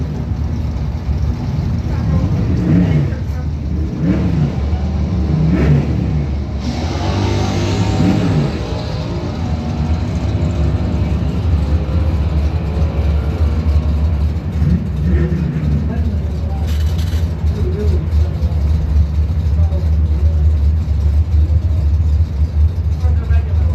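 Drag strip engines from a Mopar and a 2019 Mustang rumble and rev steadily throughout, loud and continuous, with a crowd and announcer-style voices talking over the roar.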